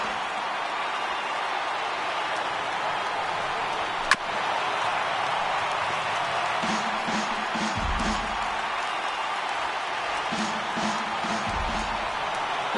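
A baseball stadium crowd of over 39,000 cheers on its feet in a steady, roaring wash of noise, broken by one sharp crack and swelling later with a couple of louder surges.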